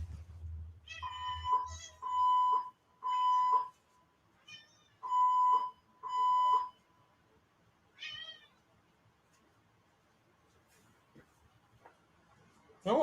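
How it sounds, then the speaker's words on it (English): A building fire alarm beeps in a repeating pattern of several loud, steady tones with pauses between, heard indoors alongside faint background sounds. "after they make the announcement, the alarm comes back on"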